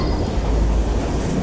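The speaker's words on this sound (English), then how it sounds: "Well, it's a noisy train." Steady, loud rumble of a moving passenger train in Assassin's Creed Syndicate, a dense low roar of wheels and carriage with no talking over it.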